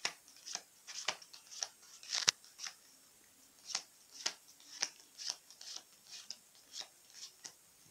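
A deck of playing cards is shuffled and cut in a quiet room, giving a series of crisp, snappy riffles and taps in an uneven rhythm, close and fairly soft.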